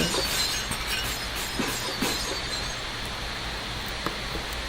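Glass shatters and crunches in the game Scraps as leather chairs smash through it, amid a dense, noisy wash of debris, with scattered tinkling pieces over a few seconds.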